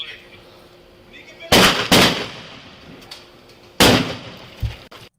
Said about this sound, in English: Now, that sounds like a rifle, and it looks like this windshield takes a round right here.